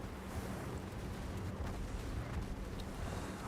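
Secondary guns aboard a warship fire in World of Warships during a naval battle, a dense, continuous low rumble of overlapping cannon blasts and booms rolling steadily without pause.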